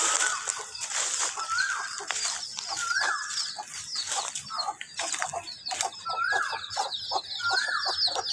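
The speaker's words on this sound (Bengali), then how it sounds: "ও সে মুরগির ঘরে মুরগিগুলো ডাকছে, কি কিচির মিচির করছে দেখবেন।" Hens clucking inside a village chicken coop, a busy close chorus of repeated clucks and rising squawks overlapping continuously, with a few sharper calls standing out.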